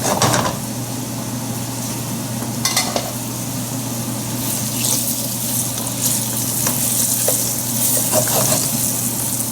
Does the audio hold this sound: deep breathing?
no